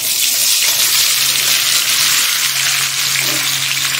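Mango pieces for pickle frying in hot oil with dried red chillies, a loud, close, continuous sizzle and crackle with faint stirring underneath.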